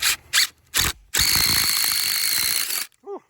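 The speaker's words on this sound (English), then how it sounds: "you drill your hole from the other side" A power drill bores a hole through from the far side on a farm, giving a loud, steady whine of about two seconds with a high squeal. It follows a few short bursts.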